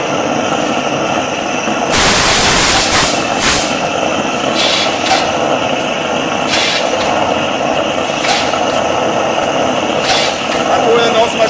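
An engine is started and runs, giving a loud, steady mechanical drone with a sharp burst of noise early on, then brief surges over a continuous hum, with someone speaking over it.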